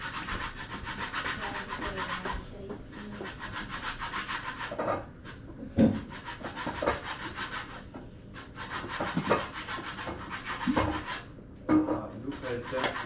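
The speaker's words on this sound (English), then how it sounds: "is zesting the lime" Lime zested on a coarse kitchen grater, continuous close scraping rasps in short bursts separated by brief pauses, with occasional knocks and quiet talk in the background.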